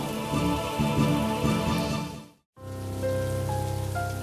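Steady rain falls during an indoor family game night, a dense even patter throughout that cuts out briefly midway before resuming with a low hum underneath.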